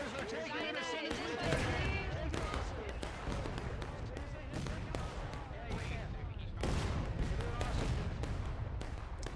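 Cannons fire one after another in a video game battle, a ragged series of booms and cracks spread across the clip beneath a voice talking over the action.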